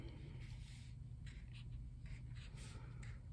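A marker faintly scratches and strokes as it traces outlines on a hand-drawn fantasy map over a light watercolor wash, with soft intermittent drawing sounds close to the microphone and no talking.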